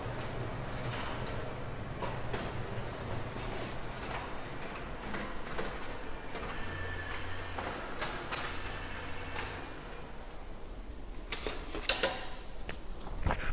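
A Toshiba E-Studio office printer prints a booklet through its saddle stitch finisher, giving steady soft mechanical whirring with repeated ticks, clicks and sliding clacks, moderately quiet and close, with no talking.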